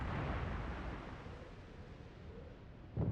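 A torpedo strikes a warship in World of Warships, a deep rumbling explosion roar that fills the clip and slowly fades, with a sharp fresh burst at the very end.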